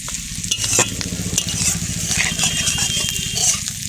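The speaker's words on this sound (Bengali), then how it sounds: "পেঁয়াজ ভাজা" Onions frying in a pan, a loud dense crackling sizzle up close, with stirring scrapes and a few sharp clinks of a spatula.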